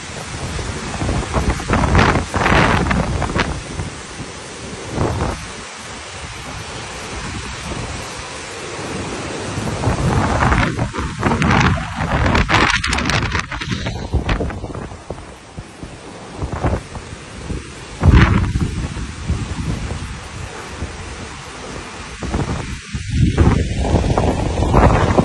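Strong typhoon winds roar and gust continuously in Taiwan, with heavy buffeting against the microphone and surging bursts throughout, loud and close.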